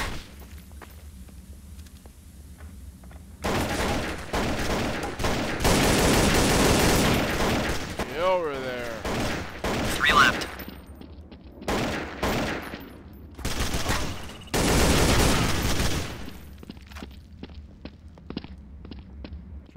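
Counter-Strike: Source bomb-defusal match on de_cbble with heavy bursts of rifle and sniper gunfire, several loud volleys separated by quieter gaps with footsteps and thuds between them.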